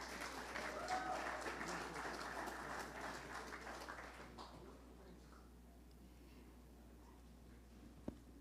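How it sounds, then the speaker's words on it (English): Audience applause at the 35th Caribbean Media Awards ceremony, a steady crowd clapping for about four seconds that fades into quiet room tone, with a brief knock near the end. "Can we please have a round of applause?"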